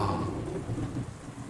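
Thunderstorm in the video game Umineko When They Cry: a low rumble of thunder rolling under steady rain, heavy at first and slowly easing off.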